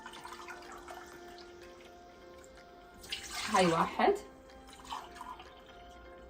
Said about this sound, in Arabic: اول ما نحط المي